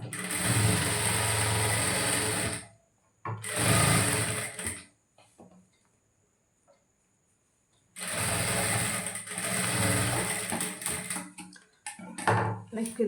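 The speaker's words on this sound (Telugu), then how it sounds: "కుట్టచ్చు మిషన్లో ఇలాగా" A sewing machine stitches blouse lining in fast continuous bursts, running for a few seconds, pausing, then running again, loud and close, with someone speaking during the pause.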